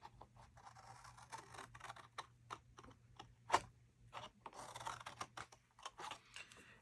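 Scissors snip paper being cut for a box, giving a quiet series of close, irregular crisp cuts and rustles with brief pauses between them, and no talking.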